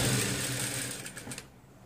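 Sewing machine stitching the waistband of a pair of kids' pants, a close, steady mechanical whirr that slows into a few separate needle strokes before fading out near the end.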